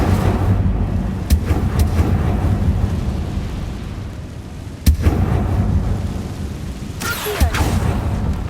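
Incendio fire spell cast in Hogwarts Legacy, a few sharp whooshing bursts and a low rumbling boom over a steady background hum, with a bright crackling flare near the end.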